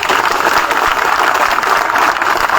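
A crowd at a community protest rally claps in dense, steady applause that is loud and unbroken for the whole moment.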